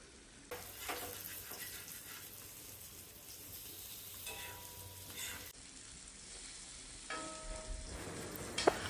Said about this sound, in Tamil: எண்ணெய் கொஞ்சம் சூடானதுக்கப்புறம் மீன் துண்டை எடுத்து எண்ணெயில் சேர்த்துடணும்.